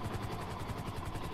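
A helicopter in the GTA V video game flies close by, its rotor chopping in a fast, even rhythm over a low engine drone that stays constant and fairly loud, with no speech.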